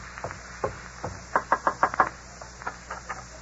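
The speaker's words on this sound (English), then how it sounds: "You wait here while I go knock." Knuckles knocking on a door as an old radio show sound effect, a few clustered raps in irregular bursts, close and crisp against a steady hiss.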